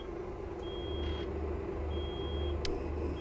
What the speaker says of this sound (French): Pourquoi ça bip? Est-ce la pression d'air?